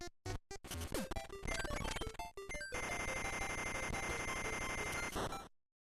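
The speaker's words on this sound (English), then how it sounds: "Fuck you, alarm clock." Wario Land 2's alarm clock rings in chiptune form: a burst of jumbled beeps and tones, then a sustained harsh electronic ringing that stops suddenly before the end, fairly faint.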